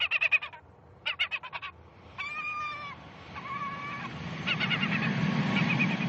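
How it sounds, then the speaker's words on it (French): A recorded gull distress call broadcast at an airport for bird control, loud repeated harsh squawking bursts and drawn-out wailing cries that overlap toward the end, against an outdoor background. "Son de détresse de la mouette."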